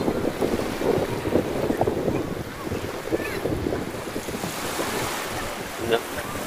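Sea waves wash over a shallow beach at low tide on Cagbalete Island in Mauban, Quezon, a steady broadband surf with wind buffeting the microphone throughout, fairly close and continuous.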